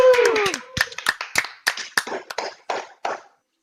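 Hands clap in a quick, uneven burst during a casual group podcast recording, a dozen or so sharp near claps with a cheer and voices over the first half-second.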